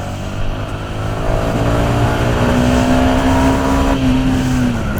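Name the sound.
Yamaha XSR 125 motorcycle accelerating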